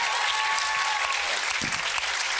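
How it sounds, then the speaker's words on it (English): An audience applauding at a TV festival reunion panel, a thick, sustained roar of clapping filling a large room, loud and continuous for over two seconds. "Please give Nick a round of applause."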